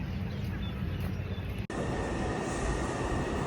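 A light rail (LRT) train in Taiwan rumbles past close by, a steady broadband roar of wheels and cars with a brief dip midway, no voices.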